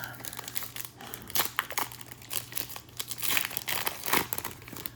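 Foil trading card packs being torn open by hand, a run of sharp crinkling and ripping bursts at close range over a steady low hum.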